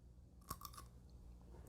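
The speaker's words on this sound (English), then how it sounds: "That was a pretty audible crunch." A single crisp crunch as someone bites into a pickle, close but quiet, with a couple of softer crunches after it and then near silence.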